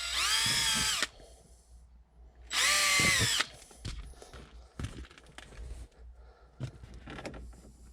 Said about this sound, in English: so I'm gonna drill some holes